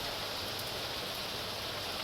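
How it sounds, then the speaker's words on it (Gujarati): Heavy rain pouring in Bhavnagar on a dark afternoon, an unbroken hissing wash of falling water, even and moderately faint, with no voices. "તમે જો અત્યારે વરસાદ ફૂલ ભૂકા કાઢે છે ભાવનગરમાં"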